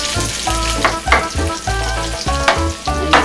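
Spaghetti frying in a pan until golden brown, a loud continuous sizzle with periodic scraping stirs and a steady underlying hum, no voices.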